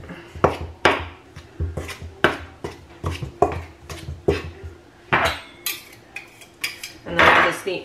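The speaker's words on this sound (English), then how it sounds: "And then I'm just going to cut it with a knife for a bit." A knife cuts Crisco shortening into pie dough for rhubarb pie, giving a series of sharp, close taps and scrapes against a bowl or board in an irregular rhythm, with no talking.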